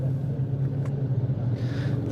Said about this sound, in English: The cars are making their way into Parc Ferme